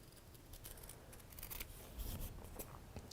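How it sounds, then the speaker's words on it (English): Scissors snip through a paper template close up, a quick run of crisp repeated cuts at an uneven rhythm, fairly quiet with no other sound. "And then you are then going to cut out your template."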